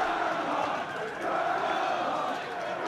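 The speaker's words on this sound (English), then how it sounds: "Boy, this is a terrific crowd." A large crowd of students roars steadily at a schoolboy rugby match between Auckland Grammar and Sacred Heart College, a dense continuous wall of cheering and shouting.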